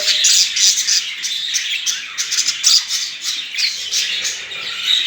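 Caged budgerigars chirp and squawk continuously in a busy, high-pitched chatter, close and lively, with no voices.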